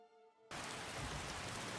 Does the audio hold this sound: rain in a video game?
yes